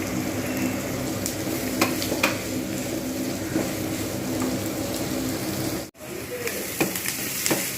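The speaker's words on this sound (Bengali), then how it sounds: "আগে পেঁয়াজটাকে প্রথম আমি ভেজে নেবো" Onions frying in a pan for a chicken and potato curry give a dense, continuous close sizzle with occasional utensil scrapes, briefly cut off near the end before resuming; no one speaks.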